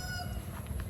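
Pet backyard chickens cluck briefly, a few soft close calls over a low ambient rumble.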